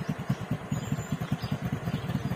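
A motorcycle fitted with a Spyker power pipe exhaust idles close by, giving a steady, loud, rhythmic low putter of evenly spaced pulses with no talk over it.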